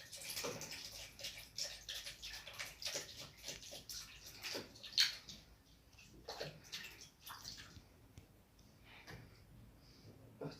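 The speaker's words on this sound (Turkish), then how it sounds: "İlk olarak sirkeyi alıyoruz. Biraz döküyoruz." Vinegar pours from a bottle for a homemade disinfectant, a soft, faint liquid trickle with light clinks and handling noises nearby and no talking.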